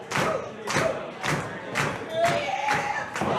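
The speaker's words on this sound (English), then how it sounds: "Oh, landed right on top of Kimber Lee" A wrestler's Vader bomb splash onto an opponent during a women's wrestling match, with repeated heavy thuds on the ring mat under a steady roar of crowd noise and shouting.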